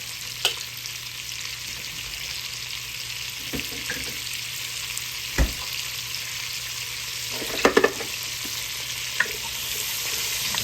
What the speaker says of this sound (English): Put garlic in there.